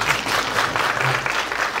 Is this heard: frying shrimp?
no